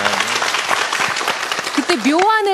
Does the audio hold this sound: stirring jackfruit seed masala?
no